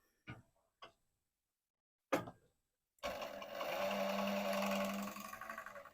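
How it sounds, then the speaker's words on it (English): A sewing machine stitches elastic together in a steady, even whir for about three seconds, preceded by a few quiet clicks and handling taps. "I'm just going to get this elastic and stitch that together."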